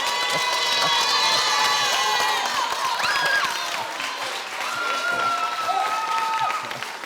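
Television studio audience clapping and cheering for a singer, a loud sustained wash of applause with shouts and whoops throughout.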